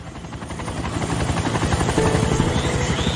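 A helicopter flies overhead at a crash site, its loud rhythmic rotor thump growing stronger and steady throughout, with no other sounds.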